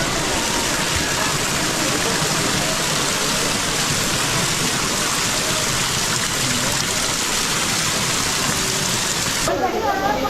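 Water pouring steadily from stone temple spouts, a continuous rushing splash close by that runs throughout, with a brief voice near the end.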